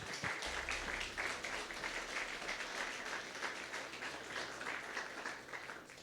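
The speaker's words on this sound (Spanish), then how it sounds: "Denle un fuerte aplauso a su Señor." A church congregation applauds steadily throughout, a dense wash of many hands clapping at even loudness from start to finish, with no talk over it.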